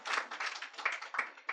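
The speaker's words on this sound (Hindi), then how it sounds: "जोरदार तालियां इनके लिए।" Audience clapping after a Hindi poetry recitation, a short burst of brisk, fairly close applause rising and falling over a couple of seconds.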